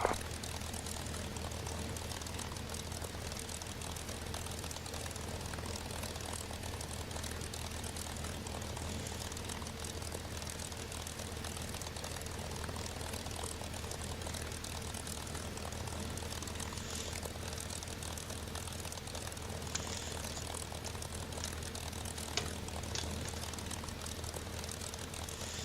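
Steady propeller-engine drone of a P-51 Mustang in the DCS flight combat game, a constant, even roar running throughout with no speech.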